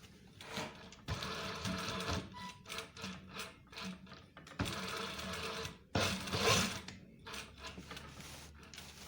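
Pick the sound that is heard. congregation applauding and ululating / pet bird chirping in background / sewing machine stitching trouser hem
sewing machine stitching trouser hem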